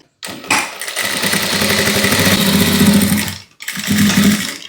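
A sewing machine runs a line of stitching along a blouse patti, a close steady motor whir that holds for about three seconds, stops briefly, then starts again, with no talk.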